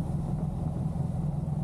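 A 2023 Honda Hornet motorcycle engine pulls hard while riding, a steady, dense low drone with a rough pulsing texture and no talk over it.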